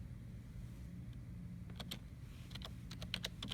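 Sparse keystrokes on a computer keyboard, a few quiet clicks in short clusters over a low steady background hum.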